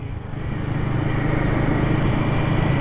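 A Royal Enfield Guerrilla 450 motorcycle with the 450 engine shared with the Himalayan rides along, giving a steady, loud engine drone with road rumble that builds slightly and holds without a break.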